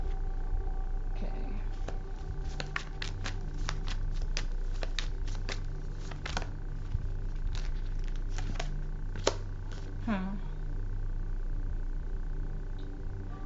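Tarot cards are shuffled repeatedly, with quick crisp riffles and taps up close over a steady low hum, with no talking.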